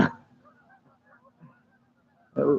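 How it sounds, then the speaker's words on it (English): Geese honking beside a flooded fishing spot during carp fishing, a loud harsh honk at the start and another at the end, with faint chirps and quiet gaps in between. "darn geese"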